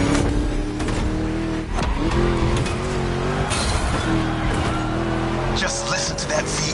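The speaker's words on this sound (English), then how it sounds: "that V8 like a chonky, down-tuned guitar riff" A V8 car engine revs hard in the racing video game The Crew Motorfest, a loud, steady low drone with shifting pitch that runs throughout, while a voice talks over it.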